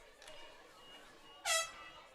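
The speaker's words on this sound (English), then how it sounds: "looks like some of the homecoming crowd got the air horns out." A short, loud air horn blast from the crowd at a high school homecoming football game cuts through a faint background, sounding somewhat distant, with the rest of the moment fairly quiet.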